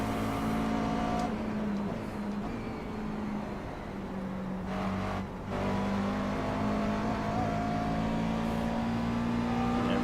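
McLaren MP4 12C race car at Sebring in iRacing, a steady engine drone with rising and falling pitch as it brakes and accelerates, loud and continuous with no talk.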